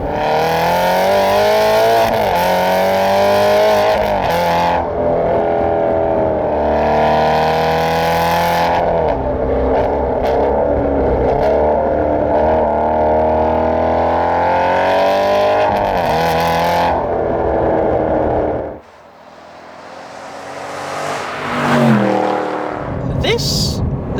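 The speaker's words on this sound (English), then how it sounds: "it's opened the valves in the exhaust." An Aston Martin Vantage GT8 engine revs hard and continuously with exhaust valves open, roaring through rising and falling pitches before dropping briefly, then surging again with crackling exhaust.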